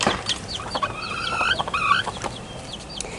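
Hens raising baby chicks the natural way give a run of short clucks and a couple of drawn-out calls, fairly close, over light outdoor background noise.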